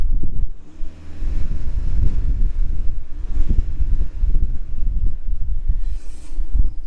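A VW Golf 7 GTD engine revs in neutral against a soft limiter near 2,500 rpm, giving a steady low rumble with a few swelling pushes, close to the microphone and without voices.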